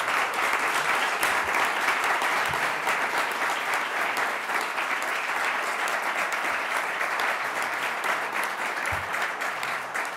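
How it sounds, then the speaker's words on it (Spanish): A crowd claps steadily and loudly throughout at a political meeting, a dense sustained burst of applause with no pauses. "Un aplauso para él"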